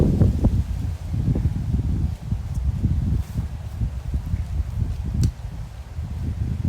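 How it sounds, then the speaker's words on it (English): Strong wind buffets the microphone in continuous low rumbling gusts, with faint rustling underneath and no talking. "Alright, it's really windy."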